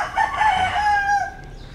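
A White Kelso gamefowl rooster, kept as a fighting cock, gives a single loud, close crow that rises, holds and tails off over nearly two seconds, with no talking.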